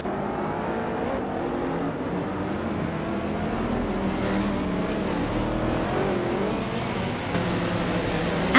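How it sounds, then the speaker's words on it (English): Race cars in a video game, among them a 2008 Gumpert Apollo, pull away at the start on the Golden Port track, a dense continuous roar of several engines revving and shifting together, loud and close throughout. "the race has just kicked off at Golden Port, and leading the pack is a P-Car Dope in a 2008 Gumpert Apollo"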